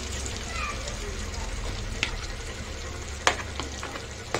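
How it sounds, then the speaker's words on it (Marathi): Mashed potato and peas filling for pani puri is stirred in a pan, with soft scraping and a faint sizzle under intermittent talk and a few sharp utensil knocks. "हे चांगलं मिक्स करून घेऊया।"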